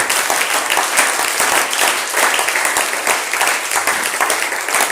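Church congregation breaking into applause during a Sunday worship service, a loud, steady wash of clapping that fills the room and stays even for several seconds.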